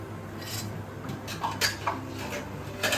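A cooking pan lid being lifted off, heard as light metallic clinks and rattles of the lid and utensils over a low steady background hum, a few close taps spaced across a few seconds.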